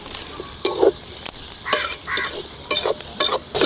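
Chopped onions sautéing in a pan for a bell pepper and moong dal dish, with a sizzling hiss under short scraping bursts of stirring that come in an irregular rhythm, close and fairly loud.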